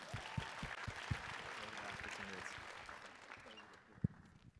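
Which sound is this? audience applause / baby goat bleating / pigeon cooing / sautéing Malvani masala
audience applause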